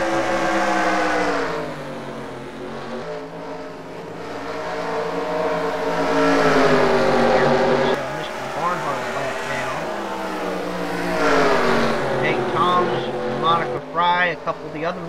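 Race cars roaring in a sim racing game at Bristol, engines loud and continuous with pitch swells as machines pass, under a commentator's speech throughout.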